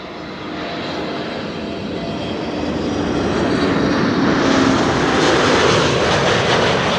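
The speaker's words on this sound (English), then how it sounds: "A321neo arriving from Dublin, Ireland." An Airbus A321neo jet airliner arriving at Amsterdam Schiphol Airport roars in from a distance, its broad engine rumble swelling steadily louder and closer as it approaches.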